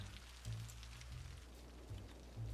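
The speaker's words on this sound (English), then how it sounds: "I really wish the rain would stop." Steady rain falling in the Cities: Skylines city-building game, a soft continuous hiss with low rumbling swells, quiet and unbroken, no voices.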